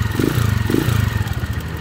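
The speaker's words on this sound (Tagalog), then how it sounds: "Tapos yung lagitik, parang may tama siguro yung tappet screw nito tsaka yung dulo ng balbula." Close, steady running of a Honda Click 150i scooter engine with a tappet ticking clatter over the mechanical drone, suspected from a worn tappet screw and valve tip.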